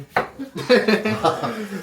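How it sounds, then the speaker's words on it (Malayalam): A knife chops onions on a cutting board in a few quick, uneven strokes, with voices murmuring close by. "എനിക്ക് അപ്പൊ ഉള്ളി അരിഞ്ഞോണ്ടിരിക്കുകയാണ്"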